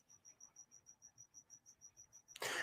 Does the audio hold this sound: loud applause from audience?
no